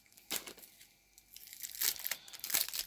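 A plastic package holding a diamond painting kit is torn and crinkled open in two rough bursts with a short pause between them. The noise is close and crackly, with no talk over it.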